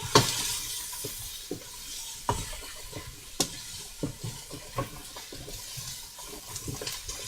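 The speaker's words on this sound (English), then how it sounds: "you're going to throw everything that's in the pan into the pot" Softened mushroom-soup vegetables are scraped and tipped from a frying pan into a pot, giving a steady low sizzle broken by repeated soft knocks and scrapes of a utensil against the cookware, close by.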